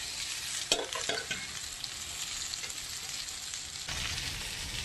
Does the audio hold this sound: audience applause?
no